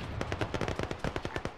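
Arma 3 gunfire heard from a distance, a rapid string of sharp cracks in quick irregular bursts, fairly faint with no talking.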